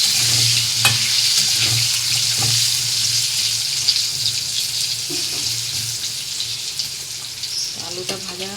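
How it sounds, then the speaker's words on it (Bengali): Potatoes frying in hot oil give a loud, steady sizzle that runs the whole way through, with a low hum underneath and a brief voice near the end. "আলুটা ভাজা হোক"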